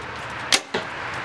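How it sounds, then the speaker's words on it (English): A Bowtech Insanity CPX compound bow, 2012 model, fires an arrow close by: one sharp, quiet snap of release followed shortly by a softer thud, with hardly any ringing afterward. "give you guys a good sound of this bow"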